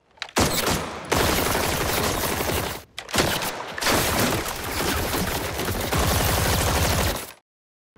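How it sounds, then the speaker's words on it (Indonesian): Sustained loud automatic gunfire rattles during shooting practice in an action film, dense rapid bursts running almost continuously with two brief breaks before cutting to silence. "Markus menyuruh mereka semua untuk latihan menembak"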